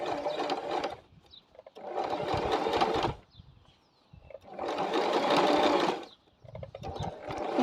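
A sewing machine stitches a zip into fabric in three bursts of rapid, buzzing stitching separated by short pauses, close and clear.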